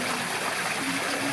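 Garden pond waterfall at a tropical botanic garden in Miami, a steady broadband rush of falling and splashing water that stays even and close throughout, with no voices over it.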